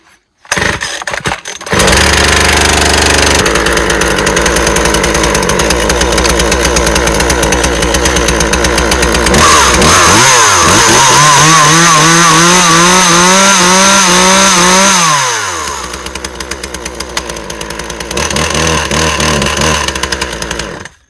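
A small petrol chainsaw, a Husqvarna 136 or a Stihl 023c, runs loud and close, settling into a buzzing idle before revving up and down in the middle and dropping back, with no voices.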